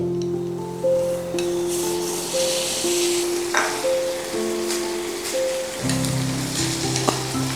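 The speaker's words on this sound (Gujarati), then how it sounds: "હવે આ સિઝલરને આપણે સ્મોકી ફ્લેવર આપવા માટે આપણે એમાં બટર નાખવાનું છે" Butter sizzles on a hot plate for a veg sizzler, a loud, continuous crackling hiss with small pops, with music playing underneath throughout.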